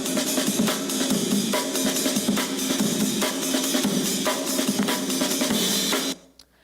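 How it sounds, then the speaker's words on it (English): Drum solo sample, a loud, busy breakbeat of snare, kick and cymbal hits in tight rhythm that plays for about six seconds and then cuts off abruptly. "Coleman gets to play a little drum solo"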